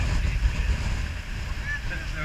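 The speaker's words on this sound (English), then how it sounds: "It's too windy now." Strong wind roars across the summit of Scafell Pike under a yellow wind warning, a loud, steady rumbling buffet against the microphone.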